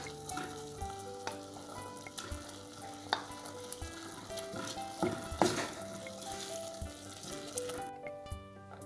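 Stewed leek heating in a pan with processed cheese as it melts, with a steady soft sizzle, light stirring scrapes and occasional utensil clinks, close by and without any talking.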